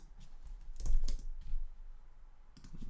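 Bursts of computer keyboard typing, fast irregular key clicks clustered in short runs with pauses between, close and moderately quiet.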